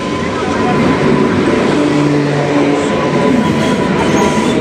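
A Jaleswar to Howrah local train rumbles steadily and loudly close by throughout, a continuous rolling roar with faint clatter.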